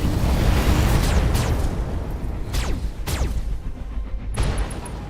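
A heavy mech autocannon fires in the BattleTech video game, producing several loud, booming blasts with sharp falling whistles over a rumbling battle background.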